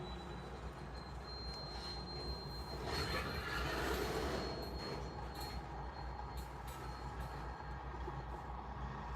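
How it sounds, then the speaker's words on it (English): A CP freight train in Iowa rolls to a stop, with a steady heavy rumble of railcars and a thin, sustained wheel squeal above it, swelling briefly midway. "Yeah, they're coming to a stop now."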